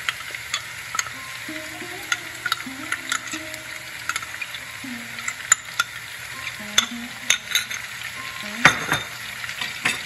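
Spice paste for a Bengali cabbage curry sizzles in hot oil in a pan while a spoon scrapes and stirs it, with steady frying crackle and repeated clinks and scrapes over about ten seconds, no talking.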